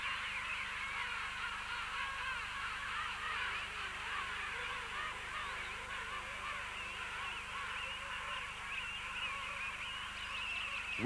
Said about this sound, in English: the birds manage to identify each other once again thanks to their song